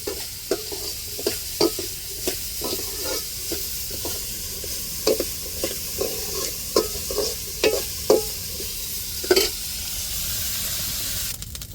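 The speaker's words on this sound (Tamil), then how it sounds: "தேங்காயை நல்லா மண மணக்க நெய்யிலே வறுத்து எடுத்தாச்சு" Grated coconut roasts in ghee in a pan for a Diwali sweet, with a soft continuous sizzle punctuated by repeated sharp scraping stirs at an uneven rhythm, close and moderately loud.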